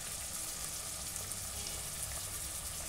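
Chicken for a vegetable dum biryani frying in a pan, a steady, even crackling sizzle held close and constant with no talking.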